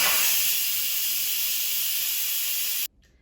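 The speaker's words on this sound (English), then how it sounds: "so let's quick release the steam." Steam hisses from an Instant Pot during a quick pressure release, a loud, steady, bright rush that holds for nearly three seconds and then cuts off abruptly to near silence.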